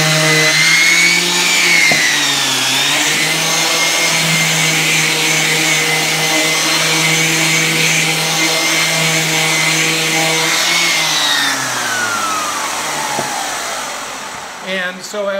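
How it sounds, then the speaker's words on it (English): An orbital sander hooked up to a dust vacuum system, sanding the surface of a guitar box kit, whines loudly and continuously, its pitch dipping and rising slightly before winding down near the end. "I basically have just an Orbital sander. Mine's hooked up to a vacuum system"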